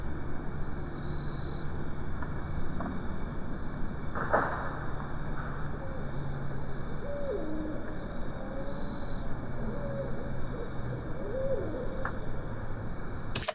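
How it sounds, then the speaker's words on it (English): Soft, low owl hoots drift in from a distance over a constant buzz of night insects, with a few faint bird chirps, captured in an overnight outdoor recording. "I hear this owl and the cow"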